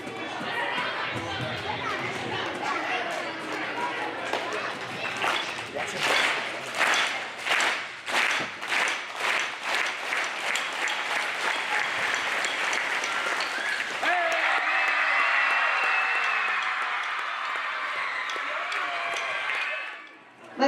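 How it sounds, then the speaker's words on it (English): An indoor audience gathering starts a slow, evenly spaced clap that gradually quickens into rapid, dense applause and then ebbs, with crowd chatter underneath throughout. "we're going to start with a slow clap, and we're just going to speed it up"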